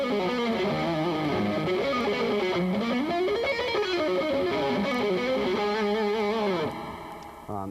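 An electric rock guitar plays a distorted melodic phrase that moves through passing tones, notes gliding up and down over several seconds before a short final hit, with no talking.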